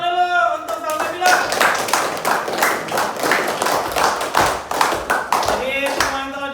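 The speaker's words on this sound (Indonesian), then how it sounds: "Tepuk tangan dulu untuk Sabila." A classroom group claps for a student named Sabila at a vocational school lesson, a burst of scattered, uneven hand claps running throughout, with voices and chatter mixed in over the clapping.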